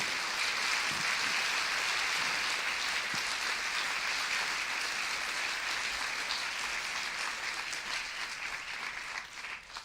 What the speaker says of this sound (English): So if I could just give one big round of applause for everybody